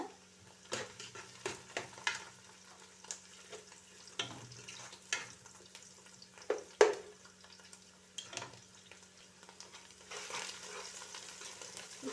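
Chopped garlic fries in a pan for white sauce chicken pasta, with soft sizzling broken by repeated stirring scrapes and clinks of a utensil against the pan.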